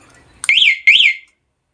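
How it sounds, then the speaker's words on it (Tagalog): A two-way car security alarm sounds two loud, close rising-and-falling siren whoops, then cuts off abruptly. "Alarm."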